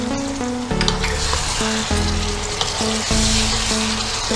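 Chicken frying with ginger garlic paste in a pan for haarjora chicken, a loud steady sizzle with a low background hum and the occasional scrape of a stirring spoon.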